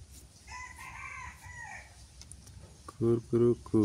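Village chickens near a vegetable plot in Bangladesh: a rooster crows in a few loud, close bursts near the end, after some faint clucking and quiet background noise.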